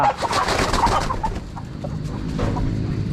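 Several chickens cluck and murmur close by, a busy, continuous flock chatter with occasional sharper calls.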